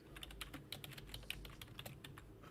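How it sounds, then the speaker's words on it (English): Quiet typing on a computer keyboard: rapid, irregular key clicks in close succession, faint and alone, with no talk. "Who is typing?"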